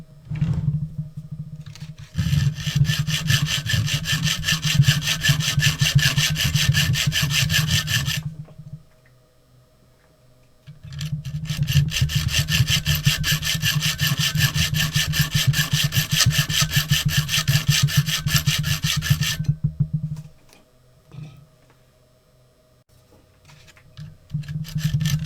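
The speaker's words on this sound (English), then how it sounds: "Straight back and forth motion with the hacksaw is the way for this to work." A hacksaw cuts through a Parker automatic door bottom with fast, rhythmic back-and-forth rasping strokes, close and loud, in two long sawing runs separated by a short pause.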